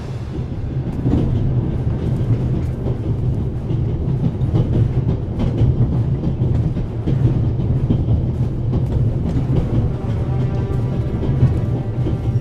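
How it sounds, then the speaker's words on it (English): Train running in the video game The Raven: Remastered: a steady, heavy rumble of rolling wagons with faint rhythmic clatter, continuous and close for the whole stretch, no voices. "I mean, how else can I stop the train?"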